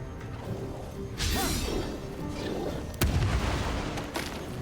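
Booming Blade cantrip striking in Baldur's Gate 3, a sharp impact burst followed by a second heavy crack a couple of seconds later over continuous game ambience.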